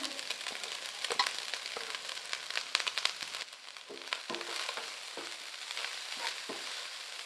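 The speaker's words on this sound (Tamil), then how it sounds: "பொடியாக நறுக்கிற மல்லித்தலை சேர்த்து நல்லா வதக்கி விட்டுக்கலாம்" Carrot rice with finely chopped coriander is stirred in a pan over medium heat, giving a steady soft sizzle broken by frequent scraping and stirring clicks from a utensil, close and fairly quiet.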